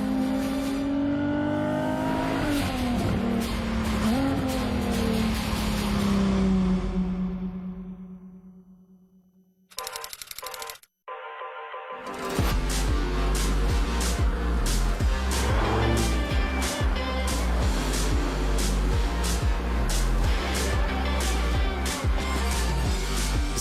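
A Ferrari Monza SP2 engine roars and revs loudly, pitch swinging up and down, drops away briefly, then surges back in a sustained, throaty growl.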